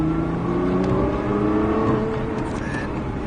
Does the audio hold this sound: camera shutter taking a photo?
no